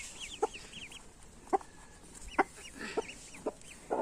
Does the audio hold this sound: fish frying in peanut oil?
no